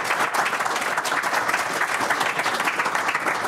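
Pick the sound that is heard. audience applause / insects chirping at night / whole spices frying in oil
audience applause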